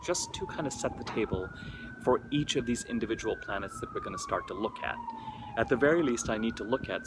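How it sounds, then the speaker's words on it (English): An emergency siren wails outside, its tone sweeping slowly up and down at moderate distance as it passes, continuous beneath steady close speech. "sorry about the siren"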